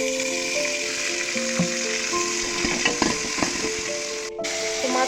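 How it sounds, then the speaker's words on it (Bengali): Ginger garlic paste sizzling in oil with golden-brown fried onions for egg biryani, a steady, fairly loud hiss with occasional taps and scrapes of stirring. "এখন আমি এর মধ্যে দিয়ে দেবো আদা রসুনের পেস্ট"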